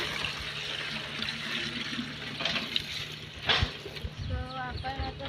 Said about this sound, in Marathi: आता पाणी काढतोय